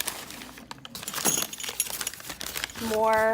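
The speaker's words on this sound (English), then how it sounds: "glass or ceramic spoons." Glass or ceramic soup spoons clink and rattle as they are handled and unwrapped, a series of light, bright chinks mixed with rustling, with a voice speaking over them.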